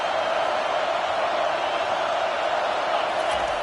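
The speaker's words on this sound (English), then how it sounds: "Listen to this crowd just shaking the girders of this place" A Notre Dame football stadium crowd roars in a steady, dense wall of noise that holds evenly throughout, loud and distant-sounding with no single voices standing out.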